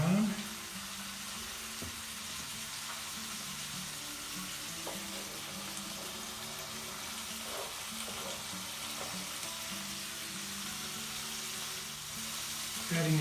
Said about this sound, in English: Put the mince in, together with the chopped onion to brown.